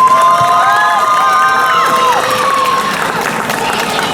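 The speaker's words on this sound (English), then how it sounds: "Huge round of applause for Sierra." A crowd at a cosplay contest cheers and whoops loudly, with high shouts and screams rising over steady clapping in a lively, busy space.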